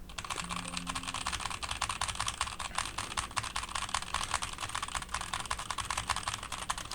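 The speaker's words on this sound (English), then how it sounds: "let's go ahead and do the intense one where I go nuts on the keyboard" Fast, intense typing on a computer keyboard, a dense continuous clatter of rapid keystrokes lasting throughout, close and loud with no talking.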